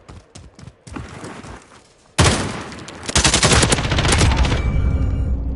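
Rapid video game gunfire during a coaching session on recoil control: scattered shots at first, then a loud sustained burst of automatic fire that keeps going to the end, close and dominant.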